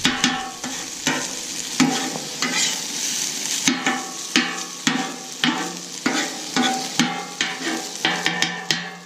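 Food fries on a Camp Chef 4-burner flat top griddle, sizzling up close while a spatula scrapes and taps the steel surface in a rapid, regular rhythm, with no talking.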